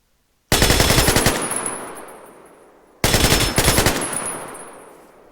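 A QBZ-95-1 rifle fires in the Superb Warfare mod for Minecraft in two loud bursts of rapid automatic fire. Each burst lasts over a second, and its echo fades before the next begins.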